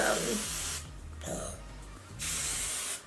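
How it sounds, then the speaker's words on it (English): Tresemme aerosol hairspray sprayed onto hair in two close, steady hissing bursts separated by a short pause. "I'm going to spray it with Tresemme hairspray"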